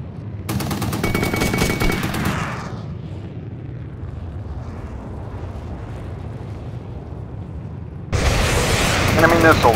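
Missiles and gunfire in the jet dogfight video game Air Supremacy 2, with loud bursts of rapid firing at the start and end framing a dull rumbling roar of jet and explosions in between.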